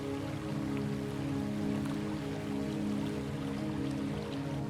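Rain falls steadily on the flooded Okavango savanna, an even, continuous patter and hiss with a low rumbling undertone, with no voices.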